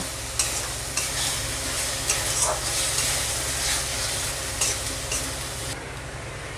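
Chopped tomatoes sauté with spices in a hot pan for chana masala, giving a loud steady sizzle with periodic scraping stirs of a spatula, close up and without talk.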